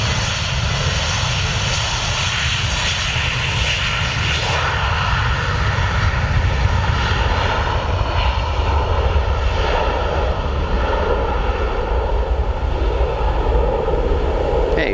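A Wizz Air Airbus A321-231 at Luton airport on runway 25 gives a loud, continuous jet engine roar that holds steady and close for the whole stretch.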